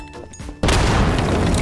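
A quiet stretch suddenly breaks into a loud, close explosion as a bomb is shot in Garry's Mod, the blast roaring and crackling without fading to the end.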